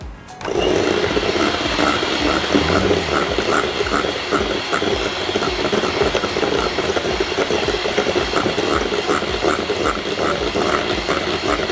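An electric mixer whisks pudding batter in a bowl, whirring steadily and close with a rhythmic rattling clatter that runs unbroken after a brief start.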